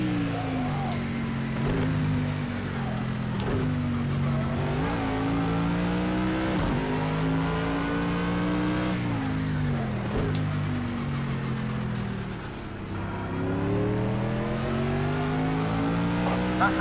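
Bentley GT3 and AMG Mercedes race cars in Project Cars 2, loud engines revving and shifting through gears, pitch rising and falling as the cars brake and accelerate around the track.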